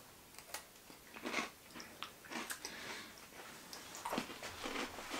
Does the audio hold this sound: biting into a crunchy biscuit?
yes